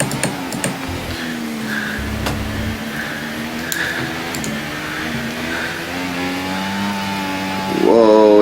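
F1 24 race car engine on a Spanish circuit, a steady droning whine that holds fairly constant with faint clicks, then rises in pitch and loudness near the end as the car revs up.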